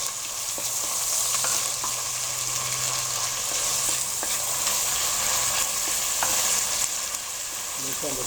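Ginger garlic paste sizzles steadily in a hot pan for mutton masala, with occasional soft scrapes of a spoon stirring, continuous and close with no talking.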